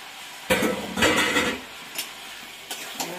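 A spoon clatters and scrapes in a pot while chicken, potatoes, salt and spices are stirred for a Punjabi-style chicken kosha, with a few loud metallic knocks and softer scraping in between, nearby, no talking.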